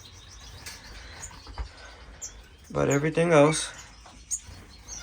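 Pet birds in a home bird room chirp and rustle their wings in short bursts, faint against the room's quiet, while someone speaks close by over them.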